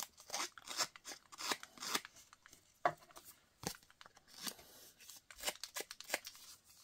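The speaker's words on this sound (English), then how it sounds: "You could use the edge of scissors to distress the paper." Scissor edge scraped along paper edges to distress them for a handmade card, a run of short dry rasping strokes in uneven bursts, close and fairly quiet, with no talking.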